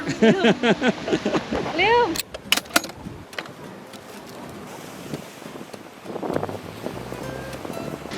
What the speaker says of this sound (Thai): แล้วก็มีคลื่นกระทบชายฝั่งแบบฟินเนาะ